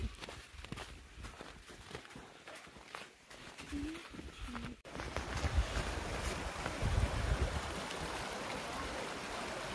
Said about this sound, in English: That's an amazing sound. Sound of water running. Wild water.